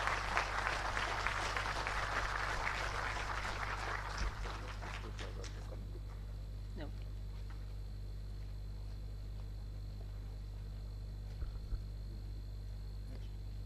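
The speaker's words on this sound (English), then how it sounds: "A big round of applause should go on for a proud CMA." Audience applause at an award ceremony during a global summit at the Manekshaw Centre, broadband and fairly full for the first five seconds, then thinning out and fading into a steady low hum of the hall.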